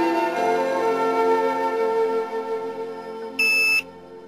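A fingerprint door lock gives a single short, sharp electronic beep near the end, over a steady low humming tone.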